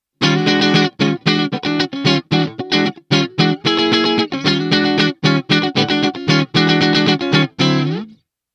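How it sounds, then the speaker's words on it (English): Clean electric guitar run through a Neural DSP Archetype Nolly X compressor in smooth mode, playing loud, evenly compressed chords in a choppy staccato rhythm with short gaps, alone with no talking. "let's hear the compressor in the clean channel."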